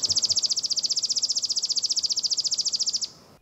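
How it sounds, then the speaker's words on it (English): A chipping sparrow sings a dry, insect-like trill, a rapid even series of identical high chips held for about three seconds, clear and fairly close over faint background noise. "Compare that to the chipping sparrow."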